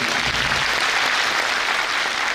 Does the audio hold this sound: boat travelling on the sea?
no